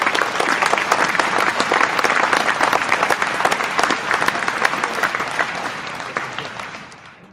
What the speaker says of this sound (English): We're gonna have to round applause you on that one really quick.